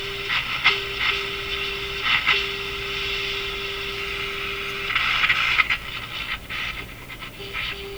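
A steady low-pitched test tone from a Breadner Bradna JBL 37 tube radio during alignment, tuned near one end of the band, humming with brief dropouts under bursts of hissy static and noise.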